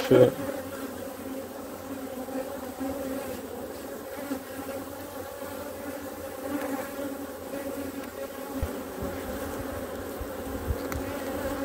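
Honey bees swarm and buzz steadily at an open hive during a full inspection, a dense, continuous drone close by with slight swells in intensity and no talk over it.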